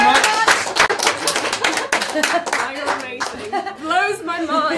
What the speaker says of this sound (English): there's a round of applause for Daniel